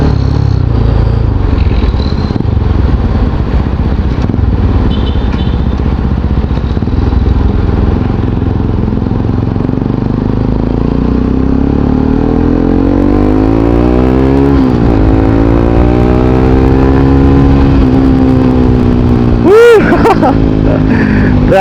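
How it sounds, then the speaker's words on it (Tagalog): A Kawasaki RS 200 motorcycle with a loud exhaust drones steadily up close, its pitch swelling and sweeping upward partway through, ending with a brief clatter. "Tambutso na. Ang ingay, grabe."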